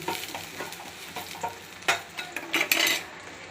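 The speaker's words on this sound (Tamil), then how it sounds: "மிளகாய் கொஞ்சம் வெங்காயம் ஓரளவு நல்லா வதக்கணும்" Onions and chillies are sautéed in a hot pan, a close, loud sizzle broken by repeated spatula stirs and scrapes that grow busier toward the end, with no voice over them.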